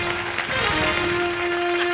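Studio audience applauding on a comedy game-show stage, a dense wash of clapping that fills the short moment at steady loudness, with a sustained musical tone running underneath.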